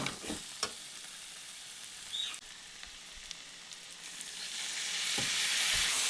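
Spice paste for Bengali chicken kosha frying in oil with a splash of water added, a quiet sizzle and scattered stirring taps that swell into a louder, hissing fry near the end, no voices.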